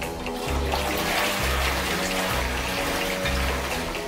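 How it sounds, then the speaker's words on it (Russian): A toilet flushes in a bathroom, with rushing, gurgling water that swells to a steady, close, fairly loud wash and keeps going throughout, with no voices. "Унитаз сливает."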